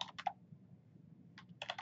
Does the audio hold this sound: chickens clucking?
no